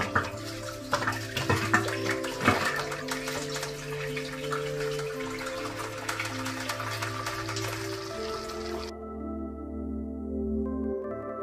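Water pours and gushes steadily into a home fish tank aquarium with plants, a close continuous splashing fill that cuts out abruptly near the end, leaving only a faint hum.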